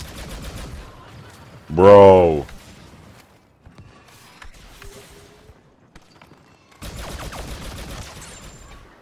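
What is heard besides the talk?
gunfire in video game Star Wars Battlefront 2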